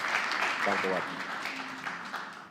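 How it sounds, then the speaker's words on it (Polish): Steady audience applause fills the room at an architecture conference as continuous clapping, with a brief spoken comment over it. "Brawa!"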